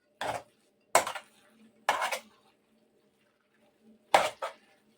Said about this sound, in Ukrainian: Цибулька, морквочка. перемішуємо знову.